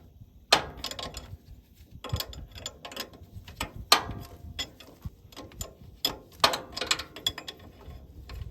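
A 19 mm wrench turns a nut on an AGT MRW14 gearbox, giving irregular metallic clicks and ratcheting taps that come in short clusters, close and fairly quiet.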